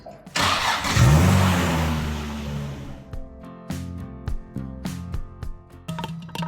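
A car in a Japanese drift build cranks and fires up with a loud surge of revving near by, then settles into a rougher, uneven idle with intermittent engine bursts.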